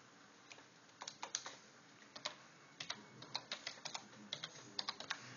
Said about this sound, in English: So let me type that command.